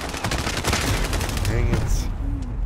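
Rapid automatic gunfire in a video game rattles loudly and continuously, close by, with a voice speaking briefly over the shots.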